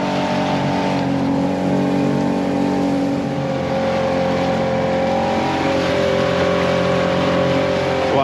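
A Macgregor 26X motorboat gets under way with a steady, loud engine drone that holds constant throughout, carrying a low rumble and a rising harmonic whine as the boat picks up speed.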